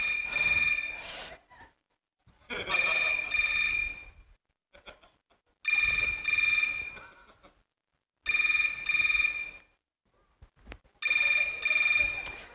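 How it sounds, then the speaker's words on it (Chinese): An old-style telephone bell rings in a stage comedy sketch, sounding five loud, evenly spaced bursts with short silent gaps between them. "别吵吵，我来电话"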